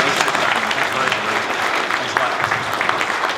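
Conference audience at a partner summit welcome session clapping loudly and continuously, a dense wash of applause from a large crowd.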